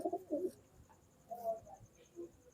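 Pigeons in a breeding loft, a white breeding pair among them, give a few soft, throaty coos close by, with brief gaps between calls.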